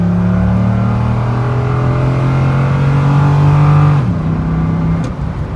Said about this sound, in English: I can get on it right now, going 60 to the floor.